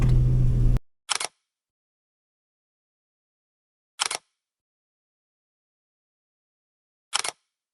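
Camera shutter clicks while photographing a 1967 Plymouth Valiant 100, three separate crisp snaps spaced a few seconds apart, following a brief burst of louder noise at the start.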